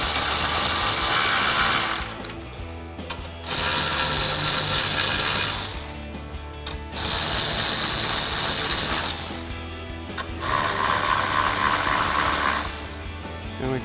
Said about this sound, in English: we can grab our 10mm socket on our ratchet and go ahead and start tightening these down